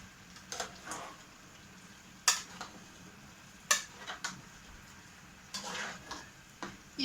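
A spoon stirring rassolnik, a soup of fresh cucumbers and pearl barley, in a pot: sporadic sharp clinks and scrapes against the metal, several in a loose rhythm over a quiet background hum.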